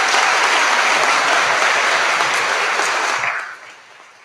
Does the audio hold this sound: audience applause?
yes